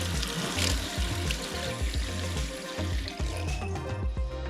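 Water runs steadily from a newly connected tap, a continuous splashing rush with faint knocks underneath, moderately quiet and with no talking.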